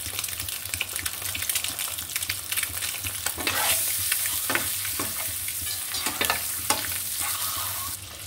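Egg and spices crackle in hot oil, a close, steady sizzle broken by brisk scraping strokes of a spoon against the pan.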